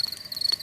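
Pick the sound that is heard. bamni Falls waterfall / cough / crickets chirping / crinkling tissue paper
crickets chirping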